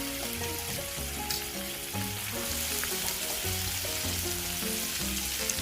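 Thai spicy stir-fried sea catfish with green peppercorns and torn kaffir lime leaves sizzling in a hot pan, a dense, steady crackling fry with light stirring, close and continuous, over soft background music.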